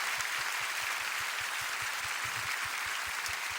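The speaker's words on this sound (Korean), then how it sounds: "박수로 한번 격려해 주시면" Applause from a church worship audience rolls on as a steady, fairly quiet wash of clapping, with soft low thumps beating under it at a regular pace.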